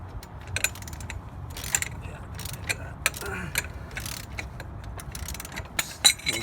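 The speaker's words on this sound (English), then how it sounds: "2 wrenches. You get the bolts nice and loose." Two wrenches work bolts loose on a front wheel hub, giving scattered metallic clicks and ratcheting ticks at close range against a steady low background, with brief clanks spread through.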